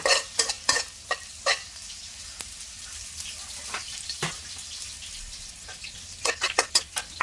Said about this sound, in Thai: จากนั้นเราก็ใส่กระเทียมลงไปเจียวไปผัดเลยค่ะ